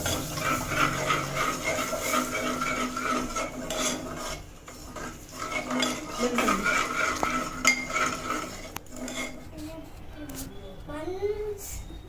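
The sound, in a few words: stirring flour mixture in a pan so it doesn't form lumps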